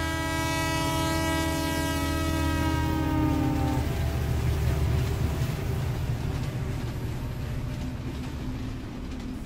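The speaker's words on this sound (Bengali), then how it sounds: "বুকের ওপর ধোঁয়া আর বাষ্প ছড়িয়ে দিয়ে নক্ষত্র বেগে পাশ দিয়ে বেরিয়ে গেল স্পেশাল ট্রেনটা।" A special steam train rushes past, a loud sustained whistle blast fading out as the heavy rumble and rattle of the passing wagons carries on close by.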